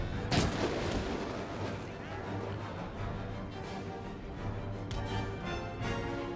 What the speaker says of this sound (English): We just kind of let the artillery do the work.